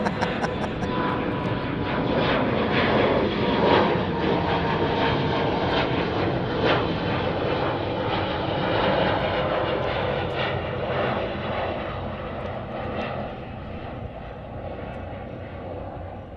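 An Embraer 175 jet airliner passes by at Chicago O'Hare, a broad, steady engine roar that stays loud through the whole pass and slowly fades toward the end, with no talking.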